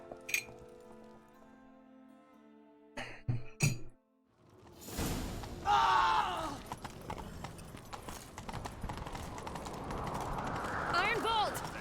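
Hooves clip-clop at a gallop with jingling tack in The Witcher 3 video game, loud and steady, while voices speak over the running horses.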